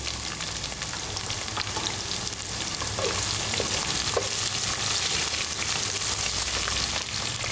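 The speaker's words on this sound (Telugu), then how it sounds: "ఇప్పుడు కట్ చేసి పెట్టుకున్నటువంటి ఉల్లిపాయ ముక్కలు వేసుకోవాలి" Chopped onions frying in a pan for a gongura, brinjal and chana dal curry, giving a steady, loud, close sizzle that holds evenly throughout with no voices.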